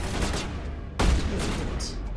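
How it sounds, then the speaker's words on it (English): A sniper rifle in Mass Effect Legendary Edition fires one loud, sharp shot midway, standing out from a steady bed of background game noise. "This sniper rifle is pretty good."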